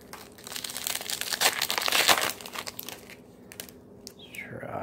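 Crinkling foil wrapper of a 2018 Topps Series 1 baseball card pack being torn open, a close, busy rustle that swells and fades with some softer crackles.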